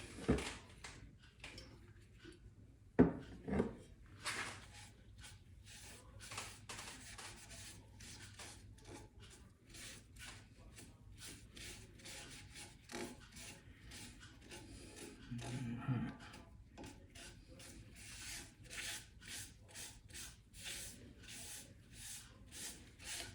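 A driftwood cedar bowl is sanded by hand with faint, quiet rubbing strokes in a soft repeating rhythm, a few sharper knocks near the start, no talking.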